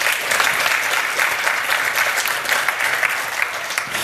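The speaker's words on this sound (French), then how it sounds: "On peut l'applaudir aussi." A crowd at a startup pitch event claps steadily, a dense, sustained round of applause filling the room without a break.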